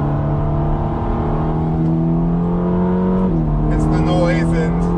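A Ferrari Roma with an eight-speed gearbox accelerating, its engine note rising steadily then dropping at a quick upshift before climbing again, loud and close from inside the car.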